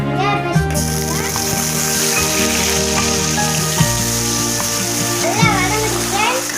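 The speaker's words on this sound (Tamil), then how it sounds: "இப்போ எண்ணெய் காஞ்சிச்சு, வெங்காய பேஸ்ட் போட்டுக்கலாம்." Onion paste frying in hot oil in a pan while fish masala is cooked, giving a steady hissing sizzle that runs beneath a person talking.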